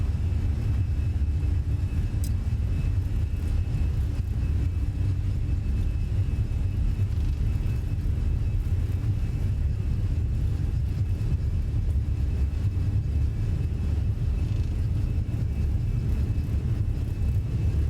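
An Airbus A320 takeoff roll in Microsoft Flight Simulator 2020, leaving JFK, heard as a steady, loud low engine roar and rumble that holds evenly throughout with no talk.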